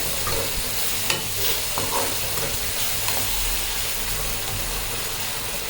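Mutton pieces cooking with softened tomato in a pan give off a steady broadband sizzle with occasional stirring scrapes, close and continuous, with no talking.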